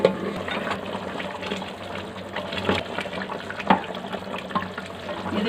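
Water pours into a cooking pot of chicken gravy, a steady splashing stream that runs the whole time at moderate, close range with no talking.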